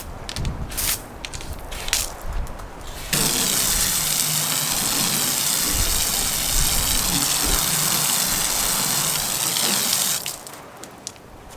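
Hose water gushes in a steady, loud broadband rush over a waxed car panel, beginning abruptly after a few seconds of lighter spray and cutting off near the end.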